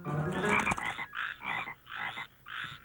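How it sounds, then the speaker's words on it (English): Frogs croak in a rising, dense chorus during a population explosion, a first tangle of calls followed by four distinct rhythmic croaking bursts, close and fairly loud. "I thought you had a plan to get the frog population explosion under control"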